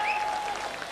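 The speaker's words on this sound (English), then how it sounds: "So give her a big round of applause." A short burst of clapping from a radio show audience, dense and steady, with a faint tone ringing over it.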